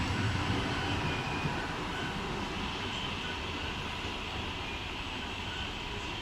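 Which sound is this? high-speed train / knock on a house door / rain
high-speed train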